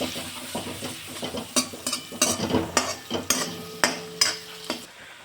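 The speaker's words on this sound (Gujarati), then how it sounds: "હું ડુંગળીને મિક્સ કરી લઈશ" A spoon scrapes and clanks around a pan in a quick irregular rhythm while onions for pav bhaji sizzle softly underneath, frying toward golden brown.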